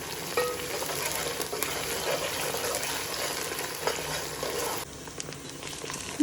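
Onions cooking in a pan with garlic and ginger paste for a chicken pulao, giving a steady broadband frying sizzle with stirring scrapes throughout, the sound thinning slightly near the end; no voices.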